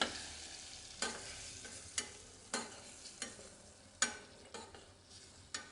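Ground spice paste stirred into hot oil in a pressure cooker, a soft continuous sizzle broken by sharp scraping stirs at irregular beats, close and fairly quiet with no talking.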